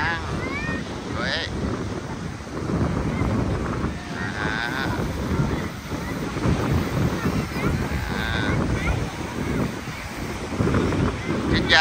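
Sea waves and strong wind at Thuan An beach near Hue, Vietnam: a continuous loud rushing roar of surf, with heavy wind buffeting the microphone throughout.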